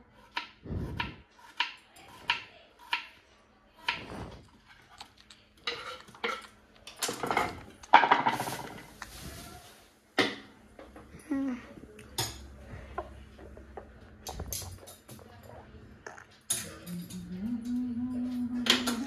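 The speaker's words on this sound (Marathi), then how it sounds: "मग ह्याला अर्ध्या ह्याच्यामध्ये कापायचं आणि मला चॉपिंग करायची" A kitchen knife chops vegetables for a tawa pulao on a board, giving irregular sharp close knocks and taps. Some quiet talk is mixed in, and a low hum rises at the end.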